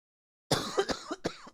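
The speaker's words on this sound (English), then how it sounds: "Cough, cough, cough, cough." A short burst of several close, harsh coughs in quick succession after a moment of silence.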